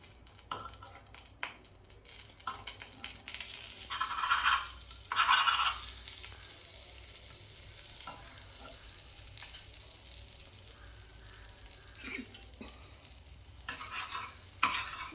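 Marinated prawns fry in melted butter in a frying pan, a steady close sizzle with stirring scrapes and a couple of louder bursts of spattering midway, no one speaking.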